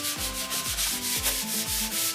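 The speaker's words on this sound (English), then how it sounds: "So give it a nice good sand." An old wooden dresser is hand sanded with the grain, giving rhythmic, close scratchy rubbing strokes, about seven back-and-forth passes in quick succession with no talking.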